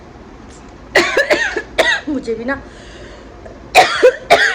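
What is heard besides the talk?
coughing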